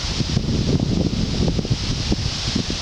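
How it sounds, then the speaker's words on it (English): Steady wind buffets the microphone with a low, rumbling roar, with some rustling mixed in and no voices, near a huge old cottonwood tree on a trail by Shelby, Iowa. "It's getting kind of windy here."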